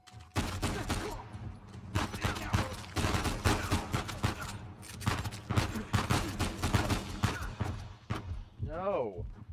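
Gunfire in Uncharted 4, rapid repeated shots in dense bursts throughout, loud and close, with a rising whine near the end.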